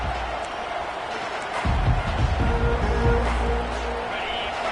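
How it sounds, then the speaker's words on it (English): A large stadium crowd at an American football game roars and cheers loudly, swelling partway through into a sustained wall of noise with no talking on top. "Listen to the crowd energy here in the early going."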